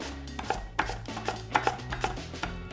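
Summer vegetables sliced on a mandolin, a quick run of crisp, near slicing strokes at an uneven rhythm, each with a sharp scraping snap, over a faint low hum and no talk.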